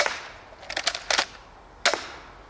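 An Interceptor pistol crossbow shoots bolts in quick repeated fashion, giving several sharp snapping cracks in a tight cluster and then one more after a short pause, fairly close with no talking.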